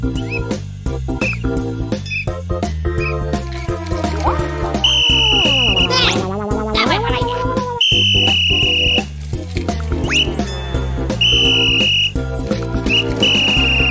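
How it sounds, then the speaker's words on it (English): Shrill traffic whistle blasts in a children's cartoon, repeated in long sustained toots over bouncy music and sliding comic sound effects, loud and close. "no one is paying attention to the traffic light or the whistle"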